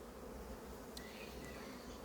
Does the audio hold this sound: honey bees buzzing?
yes